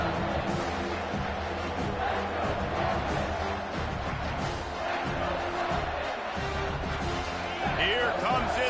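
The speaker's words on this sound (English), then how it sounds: "Here comes this home crowd as the defense tries to get off the field on third down." A home crowd at a college football game roars in a steady, dense wash of noise as the defense tries to get off the field on third down, with a commentator's voice running over it.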